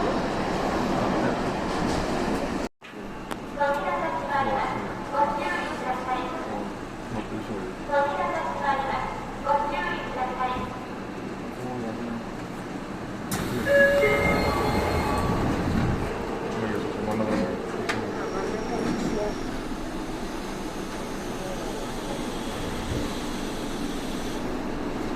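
A Saitama Railway 2000 series express train runs through on the Tokyo Metro Namboku Line toward Tamagawa, recorded from the front of the train. Steady rail and motor noise carries under onboard announcements, with a brief dropout near the start.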